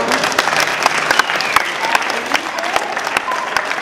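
An audience at Lalandia in Rødby, Denmark claps steadily and fairly loudly throughout, dense applause with a few sharper claps standing out.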